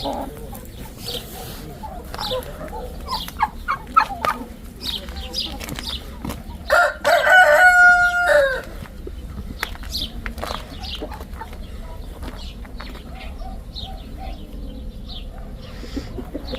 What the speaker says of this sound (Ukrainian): Курочки ходять